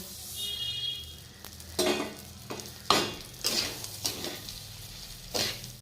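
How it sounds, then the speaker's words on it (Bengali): Rice poured into tempered oil for pulao and stirred, a soft steady sizzle under several scraping, clattering strokes of a utensil against the pan, close and moderately quiet with no talking. "ফোড়ন দেওয়া হয়ে গেছে, এবার চালটা ঢেলে দেব।"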